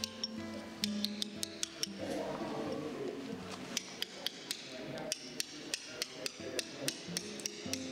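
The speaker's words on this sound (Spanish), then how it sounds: "con la media caña o cincel curvo, buscamos la curva final" A hammer strikes a curved chisel carving stone in repeated sharp metallic taps, some in quick pairs, close and clear, while pigeons coo softly in the background.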